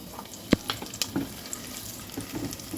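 Mustard seeds and urad dal frying in hot coconut oil in a South Indian kitchen, giving sparse sharp pops and crackles over a low background sizzle, with no talk heard.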